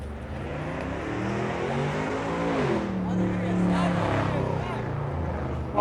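A Nissan GT-R engine roars close by with a rising, revving pitch as it speeds past, while people talk over the steady road noise.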